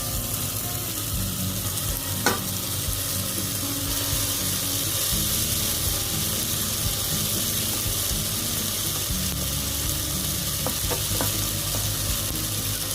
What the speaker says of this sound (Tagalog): Gigisahin lang po natin hanggang makuha po natin ang texture na nais natin